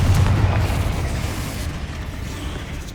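Explosive spell blasts and booming impacts from combat in the Hogwarts Legacy video game, a loud low rumble strongest at the start that fades into a sustained roar.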